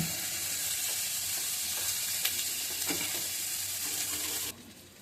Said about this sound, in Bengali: পেঁয়াজ ভাজি হয়ে গেছে বুঝছেন